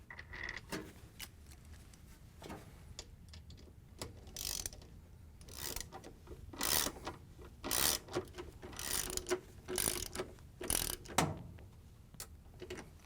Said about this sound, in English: We're going to use our 5/16 socket with the long extension and the ratchet.